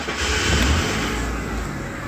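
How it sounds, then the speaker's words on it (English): A Honda Civic engine is started up; the car turns over and settles into a steady, loud running rumble with no voices. "let me start the engine"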